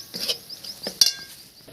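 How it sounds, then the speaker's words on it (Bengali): A spoon scrapes and clinks against a pan while egg curry masala is stirred. The metallic taps are short and irregular, and one sharp clink stands out. "ভালো করে কষে নিয়ে 5 থেকে 7 মিনিট এটা ভালোভাবে নাড়তে হবে।"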